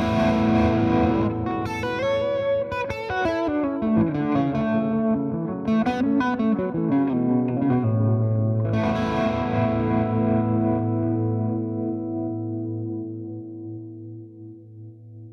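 Electric guitar played through an Orange Rocker 32 tube combo amp with stereo effects, giving a distorted lead line with a chorus-like shimmer that ends on a held chord ringing out and slowly decaying, loud and close with no voice.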